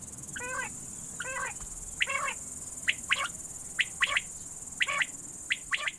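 Quail calling repeatedly in open farmland, a series of short bright chirping phrases repeated every second or so over a steady high insect-like hiss, moderately close and with no voices.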